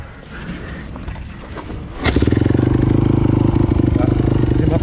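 A 2007 Honda CRF motocross bike is kick-started and catches at once, its single-cylinder engine settling into a loud, steady, rapid idle close by after some rustling and handling noise.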